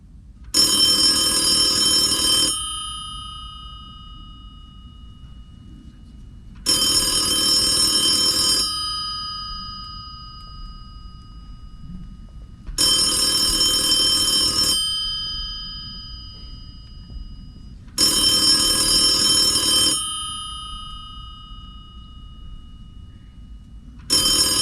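A telephone rings in a theatre during a show, four loud bright bell bursts of about two seconds each, separated by quiet gaps of roughly four seconds.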